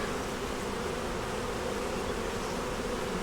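Honey bees buzz at a busy hive that is making honey, a dense, steady, close drone with no pauses and no voices.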